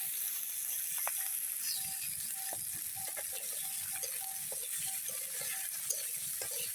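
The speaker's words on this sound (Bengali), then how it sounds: "এখন দিয়ে দিল কাঁচামরিচ আর মাসকলাইয়ের ডালটা তেলে একটু হালকা ভেজে" Black gram dal and green chillies frying lightly in oil, giving a steady, moderately loud sizzle with scattered small crackles and clicks and no talking.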